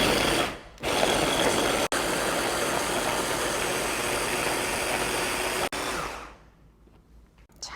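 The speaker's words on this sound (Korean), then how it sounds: "이렇게 썰어진 채소를 한번 갈아 볼게요." A blender or food processor grinds chopped vegetables into kimchi seasoning, a loud, steady whirring motor that runs continuously for several seconds with two brief interruptions, then stops and leaves only faint rattling.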